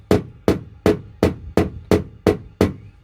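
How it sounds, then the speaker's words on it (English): Eight sharp metallic taps from the point of a hammer knocking dents out of a car's front wing, struck at a steady, even pace, each ringing briefly before the next, close by with no talking. "I've used the point of the hammer there, and just use that to knock some of these little dents back in here"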